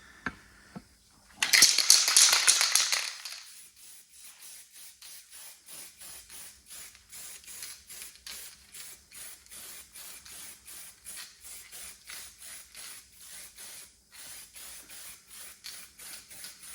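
A spray gun hisses out a steady two-second burst while laying a first coat of paint on an MG ZS 180 car body, then a soft, regular mechanical ticking repeats on its own.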